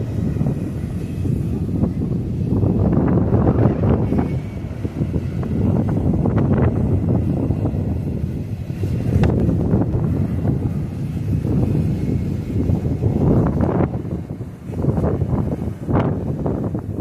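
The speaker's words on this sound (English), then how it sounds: "It's really windy out here today." Strong coastal wind buffets the microphone outdoors near an EV fire in Newport, Oregon, a continuous low roaring rumble with gusty swells and no clear talk.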